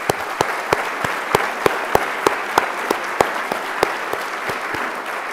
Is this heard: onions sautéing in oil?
no